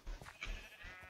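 A horse in the Minecraft video game gives a short, bleating whinny, close and fairly faint, with two or three quick pulses and no talk.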